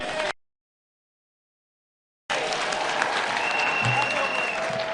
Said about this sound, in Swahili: tusidikize Wajackoyah na makofi.